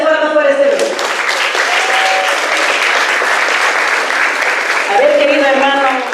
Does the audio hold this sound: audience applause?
yes